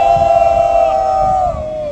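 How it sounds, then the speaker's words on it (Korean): A crowd gathered at a press conference in Seoul lets out a loud, sustained cheering shout for about two seconds, the massed voices holding steady before tapering off at the end. "우리 모두 격려의 함성 와를 3초간 부탁드립니다."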